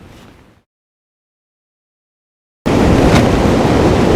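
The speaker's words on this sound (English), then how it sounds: "Well, the wind's really cranking up." Strong wind buffets a tent at a winter wild camp, a loud, steady roaring rush that starts abruptly after a brief fainter gust and near-silent gap, with no talking.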